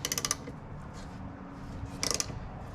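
Ratchet wrench clicking in two quick bursts of rapid ratcheting while adjusting the primary drive belt tension on a Sur Ron electric dirt bike, close and fairly loud over a low workshop hum.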